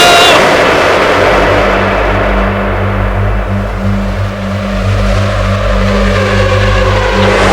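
Formula One cars launch at the start of the Japanese Grand Prix, a loud, dense roar of many engines revving together as the field pulls away, sustained and close with layered high-pitched whine.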